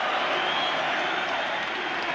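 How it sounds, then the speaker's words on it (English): Football crowd at the Trafford end applauding during a 1991 European Cup Winners' Cup match against Legia Warsaw, a dense, continuous roar of clapping and cheering from a large stadium audience, loud and sustained. "At the Trafford end, they are standing and staying and applauding"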